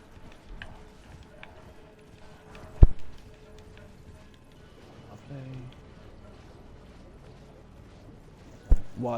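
Horse hooves clip-clopping in Elden Ring, a faint, steady patter of hoofbeats broken by a couple of sharp louder thumps, heard alone without talk.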